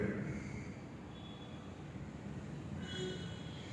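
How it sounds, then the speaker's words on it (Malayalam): A train approaching Shoranur Junction rumbles steadily nearby with a low continuous roar and faint metallic squeals rising over it, no voices. "ട്രെയിൻ ഇതാ ഇവിടുന്ന് വന്നുകൊണ്ടിരിക്കുകയാണ്"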